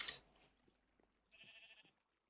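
A sheep in a blocky survival video game gives a short, faint bleat after a brief splash-like sound, fairly quiet against a near-silent background.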